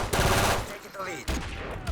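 Loud bursts of automatic gunfire from Modern Warfare 3 come in two rapid volleys separated by a brief lull, close and harsh in the mix.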